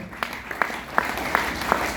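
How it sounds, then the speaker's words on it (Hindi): Audience in a club hall clapping: a few sharp, evenly spaced claps in a slow rhythm over a low crowd murmur, moderately close. "जोरदार तालियां एक बार।"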